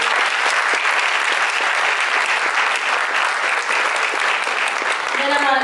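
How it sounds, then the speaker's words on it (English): A loud, sustained round of applause from a crowd at a garden awards event, dense steady clapping that fills the whole stretch without a break. "So let's give them a round of applause."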